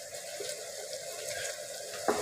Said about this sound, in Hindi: और तकरीबन 1/2 ग्लास पानी डालना है हमने।